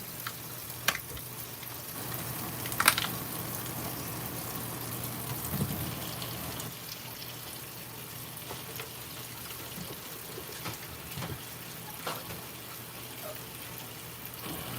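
Raspberries rinsed under running water at a home kitchen sink while breakfast is made, a soft steady hiss of flowing water throughout with a few faint clinks, fairly quiet and without speech.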